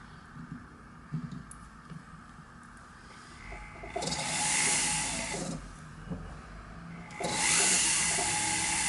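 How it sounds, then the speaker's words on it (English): A flex shaft burr cuts into a metal illusion setting while setting a diamond in jewelry, a faint steady grinding hiss that swells in two longer bursts, close and alone. "we're going to come and cut this a little bit more with the flex shaft"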